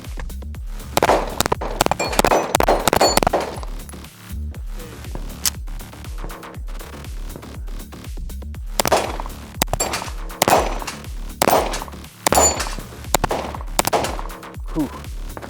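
Fowler Industries Vanta 9 paintball gun firing in rapid bursts of sharp pops, loud and close, with pauses between volleys and a few short exclamations from a shooter.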